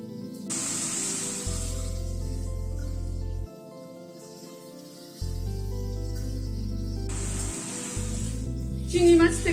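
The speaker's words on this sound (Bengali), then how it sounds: "গ্যাসের ফ্লেমটাকে বাড়িয়ে দিয়ে চিংড়ি মাছটাকে হালকা একটুখানি সতে করে নেব।" Prawns sauté in a hot pan over a raised gas flame, giving a steady, bright sizzle and hiss that runs through most of the clip, with low rumbling background hum and some faint talk.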